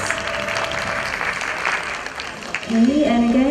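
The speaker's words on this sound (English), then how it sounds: "Give applause for our guests." An audience applauds guests at the end of a youth summit panel in Istanbul, the clapping building loudly over a voice that speaks through it.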